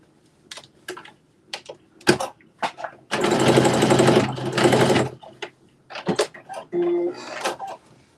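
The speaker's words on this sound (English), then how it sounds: "you can edge or base stitch it closed" A sewing machine runs in a steady two-second burst, edge- or base-stitching a seam closed on a Simplicity S9822 garment, between clicks, handling noises and a few quick short whirs.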